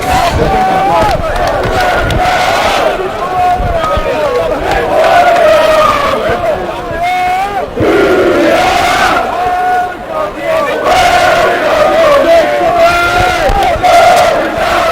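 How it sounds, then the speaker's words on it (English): A St Andrews crowd at a Scottish Varsity rugby match roars and jeers steadily in reaction to a referee's call, a dense, loud wall of voices with shouts rising and falling throughout. "And the crowd did not like that."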